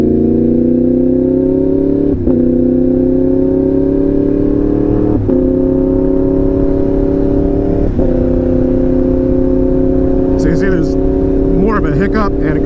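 A Yamaha MT-10 motorcycle accelerates hard and loud, its engine note climbing steadily and then dropping sharply at each of three quick-shifter gear changes, followed by a short burst of speech near the end.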